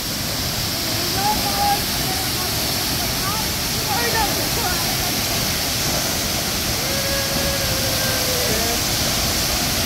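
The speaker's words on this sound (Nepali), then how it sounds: "यो झरना एकदमै सुन्दर" Twin waterfall at Chitlang in Chainpur, Sankhuwasabha, Nepal, giving a steady, loud roar of falling water throughout, with faint voices and a few thin tonal calls beneath it.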